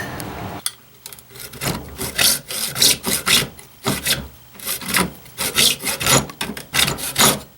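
Rhythmic back-and-forth sawing through the bamboo body of a handmade two-piece shakuhachi flute, cutting it to form a joint. The strokes are close, loud and steady, with a brief pause at the start.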